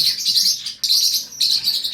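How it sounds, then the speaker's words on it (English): Pet parrots of several species chirping indoors, bright repeated high-pitched tweets in three quick bursts, close and lively, with no voices. "I'm sure you can hear them. I have 18 species of parrots"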